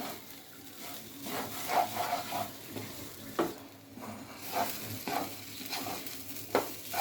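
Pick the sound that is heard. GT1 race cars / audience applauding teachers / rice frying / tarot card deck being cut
rice frying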